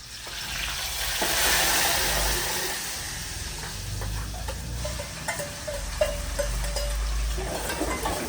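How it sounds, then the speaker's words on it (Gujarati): Vegetables being tempered in hot oil in a pan, a steady close sizzle that swells loudly early on, then settles with occasional clinks and stirring knocks from the cookware. "તો હવે અમે શાક વઘારવાનું ચાલુ કર્યું છે."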